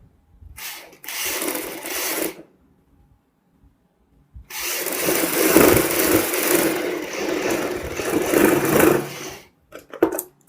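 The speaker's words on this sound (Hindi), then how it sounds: "यहाँ पे इसी नाप पे हम सिलाई लगाएंगे।" Sewing machine stitching a jacket, two close bursts of rapid mechanical whirring, a short run then a longer one after a pause, with a brief clatter at the end and no talking.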